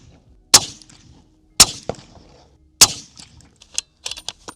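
Three loud, sharp rifle shots from a Sig Cross Trax .308 firing Hornady ammunition, evenly spaced about a second apart, followed by softer clinks and clatter at close range.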